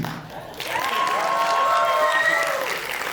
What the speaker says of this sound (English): One round of applause for me.